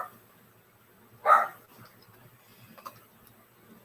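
A single short dog bark or yip rings out indoors, fairly close, standing alone above a quiet room with faint background noise and no talk over it.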